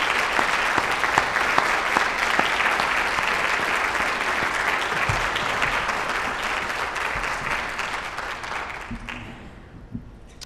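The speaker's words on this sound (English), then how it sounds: "Ladies and gentlemen, please join me in a round of applause for Miss Marilyn Sue." Audience applause at a hall of fame induction ceremony, dense and sustained for about nine seconds. It fills the room at steady strength, then thins and fades out near the end.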